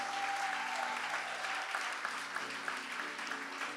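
A church congregation breaks into sustained applause, a dense, even clatter of many hands filling the room for several seconds, loud and close, with a faint voice briefly audible underneath.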